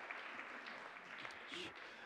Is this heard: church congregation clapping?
yes